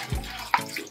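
A short splash of water poured into a cooking pot while making Visayan-style chicharon bulaklak, a quick pour with a brief clatter and no talking.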